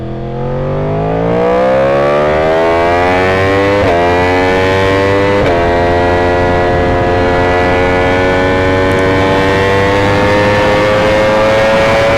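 A Lamborghini V4 motorcycle accelerates hard on a race track during a track school session. The loud, close engine note climbs steadily in pitch with brief dips at gear changes and holds a high, sustained whine, with no speech.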